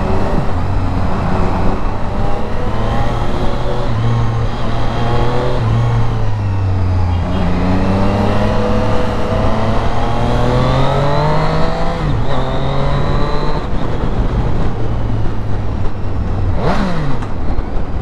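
A Triumph Street Triple RS three-cylinder motorcycle being ridden, its loud engine note rising and falling steadily through the gears, close and continuous with no talk.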